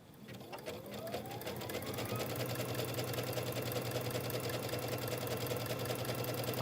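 Embroidery sewing machine running a zigzag stitch for a quilt block, a steady fast mechanical whirr with rapid needle chatter, close and continuous throughout.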